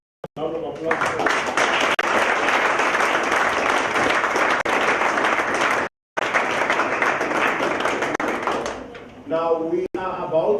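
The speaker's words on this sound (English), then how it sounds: "May we give the Apostle General a round of applause" A church leadership gathering breaks into loud, sustained applause for the Apostle General, dense clapping that cuts off abruptly midway and then resumes before fading, with a voice heard briefly at the edges.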